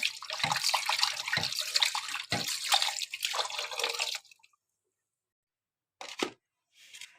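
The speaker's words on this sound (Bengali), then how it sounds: "আর এখানে হাড্ডি নিয়ে নিচ্ছি, এগুলা ধুয়ে রেখে দিব" Bones being washed by hand in water make about four seconds of splashing and dripping, then silence, followed by two brief splashes later on.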